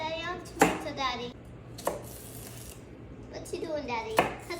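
Knife cutting ingredients for chicken and sausage gumbo, a few sharp chopping knocks spaced apart in a kitchen while a child and an adult talk over them.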